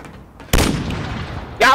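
Video game gunfire from a player taking cover behind a shipping container: two sharp, loud bursts, the first sustained and decaying, the second at the very end, over a quiet background.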